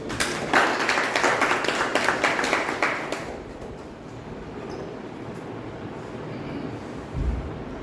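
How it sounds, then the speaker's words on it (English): Applause from a small audience at a Toastmasters club meeting, a burst of close, crisp clapping for about three seconds that quickly dies away into quiet room tone. "Give him a round of applause"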